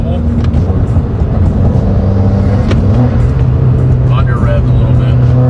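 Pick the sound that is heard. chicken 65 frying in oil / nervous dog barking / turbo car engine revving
turbo car engine revving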